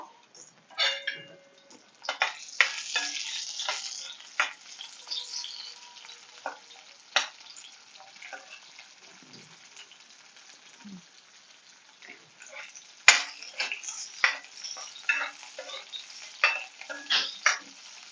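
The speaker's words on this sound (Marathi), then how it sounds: "आपण ह्याच कढईत भेंडी तळून घेतोय" Okra (bhindi) frying in oil in a kadhai, a crackling sizzle with clattering stirs and scrapes, busy at the start and again toward the end.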